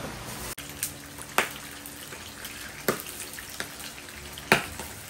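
Milkfish frying in hot oil, with sharp, scattered spattering pops and crackles over a low background hiss, the loudest bursts a few seconds apart.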